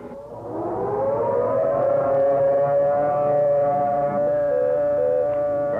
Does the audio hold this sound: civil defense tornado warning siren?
yes